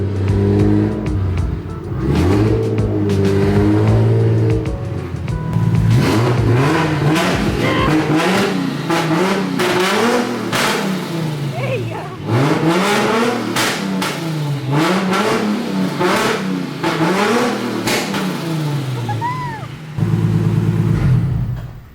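A car fitted with straight-pipe exhaust and a two-step launch limiter revs hard in repeated loud bursts, each rise and fall ending in sharp crackling pops, close by, with a few brief voices between pulls.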